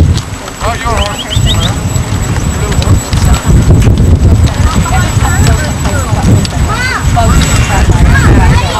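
Hooves clip-clop as a horse walks along a trail at Bryce Canyon, loud and close under wind buffeting the microphone, while people talk and call out over it.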